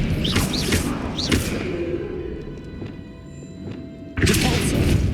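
Expelliarmus spell cast in Hogwarts Legacy, a loud close thudding impact with booming whooshes over a busy game soundscape, ending in a sudden heavy burst.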